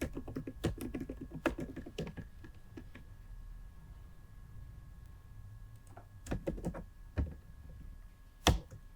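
Quick bursts of typing on a computer keyboard while HTML and CSS code is entered, with clustered key clicks separated by pauses over a faint steady background hum.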